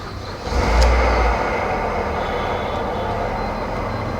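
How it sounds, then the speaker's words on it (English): A 2004-2010 Mazda 5 engine cranks briefly and catches, then settles into a steady, close idle hum. "the car started."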